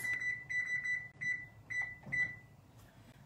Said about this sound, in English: I'm gonna set my timer on my stove for 16 minutes.